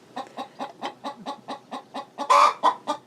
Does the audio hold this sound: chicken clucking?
yes